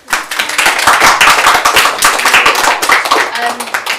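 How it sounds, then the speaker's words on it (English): Applause for candidates at the close of a student-union election hustings: a dense, steady round of hand clapping from the audience, close and fairly loud throughout, with a little murmured voice underneath. "If we could have a round of applause."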